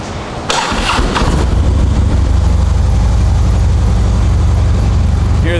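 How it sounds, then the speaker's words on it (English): A Harley-Davidson Electra Glide Police FLHTP motorcycle with its factory exhaust cranks briefly and fires up, then settles into a steady, close, loud idling rumble. "Hear that factory exhaust."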